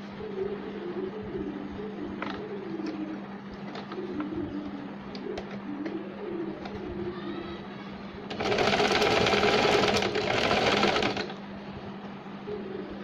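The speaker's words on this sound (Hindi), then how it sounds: "दूसरे साइड को हम इसी तरह इलास्टिक को सिलाई लगा लेंगे।" Sewing machine stitching elastic onto a baby capri, a low steady hum with light taps, then a loud burst of fast continuous stitching for about three seconds before settling back to quieter handling.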